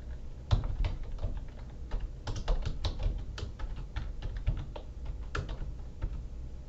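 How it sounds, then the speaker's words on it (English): Steady, quiet typing on a computer keyboard, a fast irregular run of light key clicks with no talking. "So I will type that in now."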